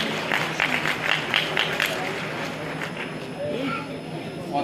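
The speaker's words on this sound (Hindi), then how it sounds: "तो जोरदार तालियां ये हेल्थ केयर के चीज़ों के लिए" An audience at an anniversary event in Kolkata claps in brisk, rhythmic bursts that are loudest at first and then thin into a softer crowd murmur.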